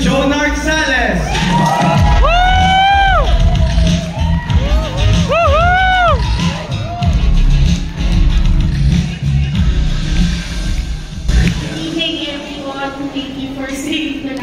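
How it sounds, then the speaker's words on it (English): Crowd at a smartphone launch event in the Philippines erupts in cheering, whoops and shouts, with loud sustained noise, then settles into a murmur before people talk near the end. "Please give a round of applause to Joe Narcales!"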